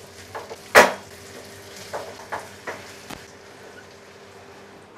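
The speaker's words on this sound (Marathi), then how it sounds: "भेजाची दुसरी बाजू आहे ना ती पलटून घेऊया." Goat brain (bheja fry) sizzles in a pan and is flipped over, a soft frying hiss punctuated by a loud utensil scrape and several lighter clinks of metal on the pan.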